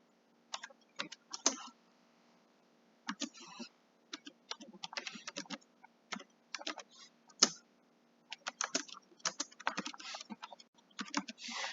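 Typing on a computer keyboard, with close, light key taps arriving in irregular bursts separated by short pauses, quiet and alone over a faint background hum.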